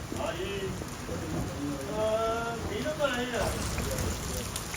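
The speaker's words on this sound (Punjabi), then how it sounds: "ਸੱਚੇ ਮੀਂਹ ਤੇਜ਼ ਹੋ ਗਿਆ" Steady, dense rain pours down on a sugarcane field throughout while someone talks over the downpour.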